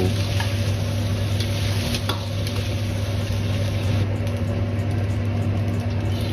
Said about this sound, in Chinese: 用勺子推散至表面稍微发白，刚好定型就可以